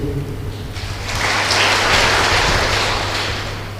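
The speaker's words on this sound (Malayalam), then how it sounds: "കുറച്ചുകൂടി കൈയടിച്ചോ" Congregation at a Sunday Syro-Malabar Holy Mass (Qurbana) applauding, a dense broadband wash of many hands that swells after the first second and holds steady, loud and close, with no speech over it.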